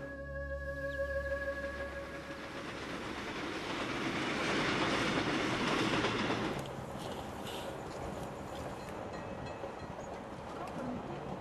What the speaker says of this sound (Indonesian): Saya dalam perjalanan bisnis naik kereta ekspres Jakarta-Jogja saat kereta tiba-tiba berhenti.